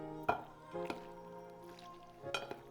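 Salad gets mixed with its dressing in a bowl, producing a few soft, close clinking and tossing sounds spaced apart in a quiet kitchen.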